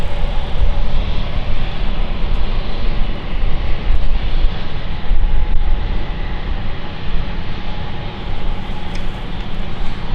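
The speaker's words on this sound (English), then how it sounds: "So heading out, we have a NetJet" A NetJets business jet heading out at London City Airport, its engines giving a loud, steady broadband roar that holds close and constant throughout with no one talking.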